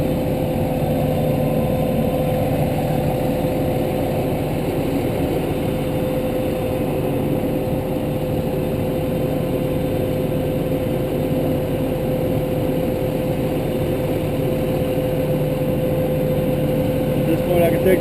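A fire engine runs steadily with its pump engaged, a loud constant droning engine hum with a fixed tonal whine, unchanging for the whole stretch.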